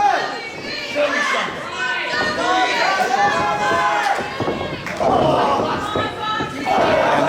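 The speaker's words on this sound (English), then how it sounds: "This crowd trying to rally behind Tyler Vox," A crowd at a tag team wrestling match rallies behind a wrestler with shouts, chants and cheering that swell and ebb, along with thuds from the ring. Commentators talk throughout.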